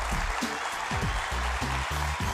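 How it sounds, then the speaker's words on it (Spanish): Studio audience applause welcoming a guest to a television talent-show judges' table, a short burst of clapping under low-pitched rumbling background noise. "Un aplauso para mi invitada."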